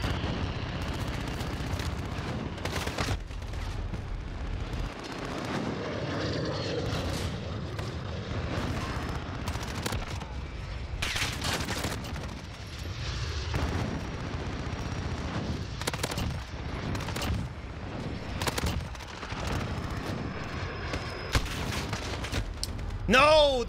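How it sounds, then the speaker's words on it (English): In a Call of Duty: Modern Warfare match, a VTOL aircraft flies overhead and fires, with repeated bursts of heavy gunfire and explosions over a rumbling backdrop, loud and chaotic throughout. "Now I have to dodge a VTOL."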